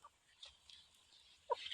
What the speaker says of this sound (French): nous allons aller voir d'autres poules